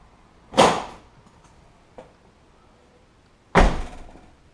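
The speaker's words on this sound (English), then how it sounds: "Just popping the hood here." A 1991 Suzuki Tracker's hood being popped: two loud sharp metallic thunks about three seconds apart, with a faint click between them, close by and with no talk.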